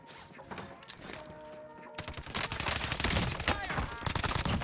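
Rapid gunfire bursts from a Warzone match crackle through the clip, growing denser and louder in the second half, with a player talking over the shooting.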